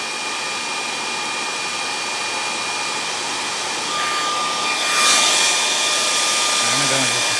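A blow dryer heating a nitro model engine runs as a loud, steady whooshing roar with a thin whine, close to the mic, briefly surging midway and then continuing alone.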